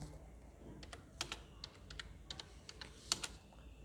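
Steady keyboard typing, a run of light clicking keystrokes at an uneven pace, close and fairly quiet, with no voices.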